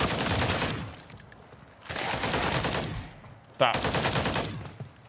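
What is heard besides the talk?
gunfire in the video game MW3 Zombies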